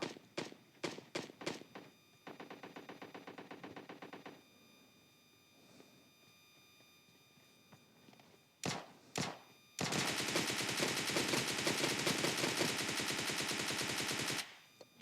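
Gunfire in PUBG Mobile from an enemy player, including an S12 shotgun: sharp separate shots open the clip, then a rapid automatic burst follows, two more loud cracks come later, and a long sustained loud volley runs near the end.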